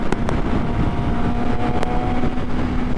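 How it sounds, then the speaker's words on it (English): A sport bike engine revs with a high-pitched, menacing whine and steady drone, loud and close throughout with wind buffeting over it. "you will never get tired of that sound. That sport bike sound."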